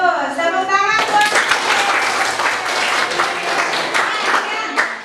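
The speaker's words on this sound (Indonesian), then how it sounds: "Tepuk tangan buat" A classroom of students claps in a burst of dense applause after a teacher's brief speech, the clapping sustained for several seconds before tapering off.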